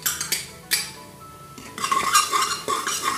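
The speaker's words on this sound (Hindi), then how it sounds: "और इसे अच्छे से मिक्स करेंगे।" Oats and washed moong dal being stirred in a metal pot, with a spoon scraping and clinking against the sides in uneven bursts, close and moderately loud, with no talking.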